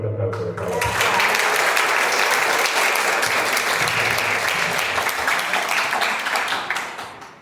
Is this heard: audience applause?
yes